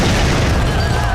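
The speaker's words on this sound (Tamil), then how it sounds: "வெடிச்சிருச்சு" Explosion in a film scene, a dense, loud, sustained rumbling roar that fills the whole moment at close range, with no voices heard.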